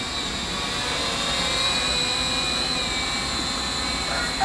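A small KF609 mini quadcopter drone hovers and flies nearby with a steady, high-pitched whirring whine that holds at an even level throughout.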